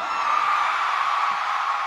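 A packed concert crowd at a P-Pop show screams and yells together in one sustained, dense roar, loud and unbroken for its full length.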